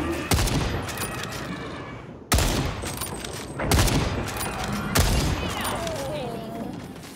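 Sustained bursts of automatic gunfire from the video game Second Extinction, three long volleys separated by brief pauses, loud and dense.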